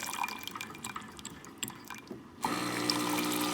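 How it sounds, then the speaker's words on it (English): Hot water runs from the wand of a Saeco espresso machine after a service tune-up, a thin hissing, splashing trickle that gives way to a louder, steadier rushing flow near the end, close by with no talk. "We're gonna let some water out of the hot water wand."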